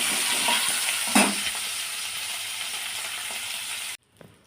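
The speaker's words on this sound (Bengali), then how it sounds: "এই যে আমি মাগুর মাছ ভাজা বসিয়ে দিয়েছি" Magur catfish fries in a small amount of oil with a steady close sizzle and one sharper crackling burst. The sound cuts off abruptly near the end.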